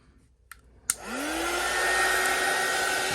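A hair dryer is switched on with a click and whirs up, its motor pitch rising before it settles into a steady, loud, close blowing roar.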